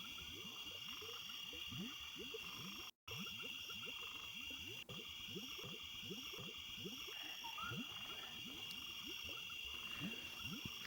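Dense swamp night chorus from the Legend of Zelda game, with many frogs croaking in overlapping rhythmic pulses under a steady hiss of insects, continuous and moderately loud throughout, broken only by one brief dropout.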